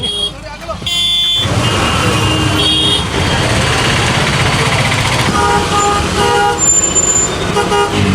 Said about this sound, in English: honking here means nothing like it does back home